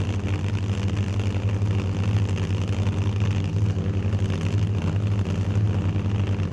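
A screw-blown supercharged Hemi and a 2012 Shelby Mustang idle at the drag strip start line, a loud, lumpy, rhythmic low-end rumble pulsing steadily throughout.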